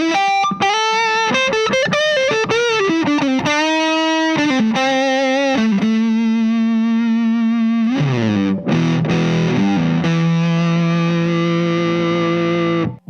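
Electric guitar played through an O.C.E. Tsar Bomba vintage-style fuzz pedal, set with fuzz lowered, bass boosted and treble cut for a round tone: loud, sustained fuzzy notes and chords, alone, with a few brief stops between phrases.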